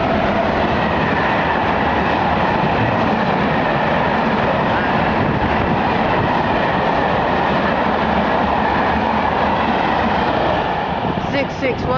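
A DB Schenker Class 66 diesel freight locomotive runs fast northbound through platform 2 at Hitchin station. Its loud, steady rumbling roar fills the whole passage without a break.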